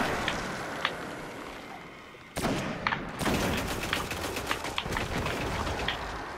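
Sniper rifle shots and gunfire in the video game Destiny, sharp cracks over a busy battle din, with a sudden louder burst midway and repeated close reports.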